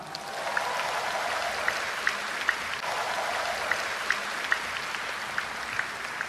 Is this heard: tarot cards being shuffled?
no